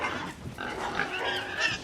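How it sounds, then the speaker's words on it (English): Pigs oinking and grunting in a film scene, several snuffling calls in a continuous cluster at close to moderate distance, with no talk. "There's pigs."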